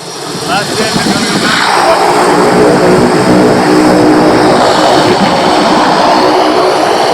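A floatplane departs from a remote outpost lake in Wabakimi, its propeller engine rising to a loud, sustained droning roar that fills the scene while people talk nearby.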